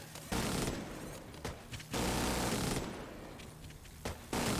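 Bursts of heavy gunfire in The Division 2, with loud automatic volleys broken by brief lulls, close and dense throughout, hitting heavily armored enemies.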